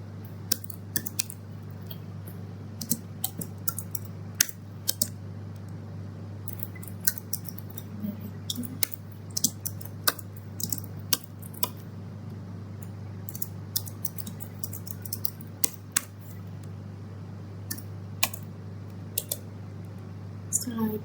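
Keys tapped on a computer keyboard while typing database table fields, irregular bursts of light clicks with gaps, under a steady low electrical hum.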